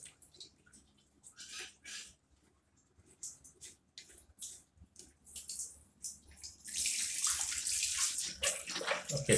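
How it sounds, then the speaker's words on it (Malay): Water running from a kitchen sink tap and through the drain after its filter is cleaned, starting as scattered splashes and drips, then rising into a steady, strong rushing flow. "Okey, sekarang air dah laju."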